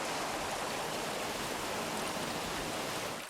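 Water flows continuously through channels at the Alhambra, a steady, even rushing wash heard up close and fairly soft, with no voices or other sounds.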